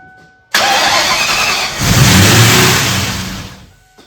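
A rebuilt 1997 Ford Mustang Cobra engine cranks and fires up after a short silence, then holds a loud, high idle with a surge in revs before easing off toward the end.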